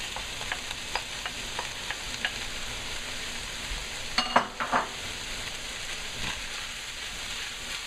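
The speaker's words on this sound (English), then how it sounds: "So when the meat is almost done, that's when the pickled mustard gets it blended in. So here we go, put in all the pickled mustard." Pork and pickled mustard greens stir-fry in a hot pan with a steady, close sizzle. Light scraping stirs tap through it, with a brief cluster of louder clatter midway.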